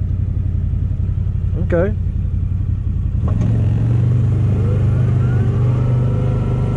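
A 2019 CFMOTO ZForce 800 Trail side-by-side engine rumbles low and steady, then rises in pitch and grows louder as the throttle opens, with a brief spoken word early on.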